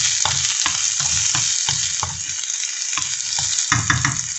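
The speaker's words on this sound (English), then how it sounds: "as you can hear, this is sizzling pretty nicely." Mushrooms and onion frying in a pan for a vegetarian breakfast, with a steady loud sizzle and crackle, broken by repeated clicks and scrapes of stirring.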